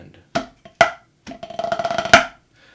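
Close snare drum strokes on a pipe-band tune part: a few separate hits and a flam, then a quick buzzing roll that ends in an accent, followed by quiet.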